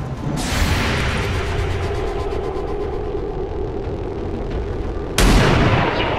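Gunshot in XCOM 2 War of the Chosen, a loud sharp report at the start over a sustained rumbling battle bed, and a second blast near the end.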